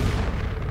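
An explosive round fired at a padlock in Tomb Raider IV: The Last Revelation lands as a short, muffled boom with a low rumble, quiet and heard alone without talk.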